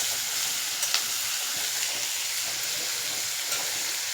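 Boiled chicken fries in a pan with a constant soft sizzle and a few faint crackles and stir taps, close but fairly quiet with no voices.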